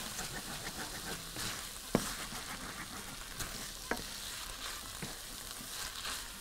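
Tomatoes hit a hot frying pan and sizzle in a steady, hissing crackle, with a couple of sharp clinks and no talking.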